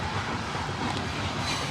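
Loud railway train passing close by, a steady broadband roar with faint wheel clatter throughout, heard outdoors on an evening walk with an old lab.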